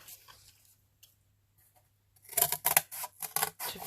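Scissors cut through cardboard being trimmed to fit a handmade stamp. After a quiet stretch, a run of loud, close crunching snips comes in quick, uneven succession.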